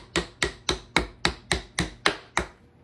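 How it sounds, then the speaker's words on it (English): A hammer taps pieces into an IKEA ALEX file cabinet drawer during assembly: nine sharp, evenly spaced knocks about a quarter second apart, close and clear, with no talking. "You're gonna get a hammer and just knock them in."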